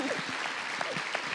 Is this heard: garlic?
no